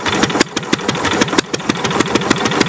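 A loud 1920s Buda railcar (speeder) engine runs close by with a rapid, slightly uneven chugging exhaust beat, steady throughout.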